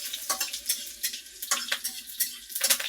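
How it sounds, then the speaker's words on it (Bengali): Green chili and panch phoron frying in hot oil, stirred in a pan, with a steady close sizzle and repeated scraping strokes about every half second throughout. "এই যে নাড়াচাড়া করে নিব"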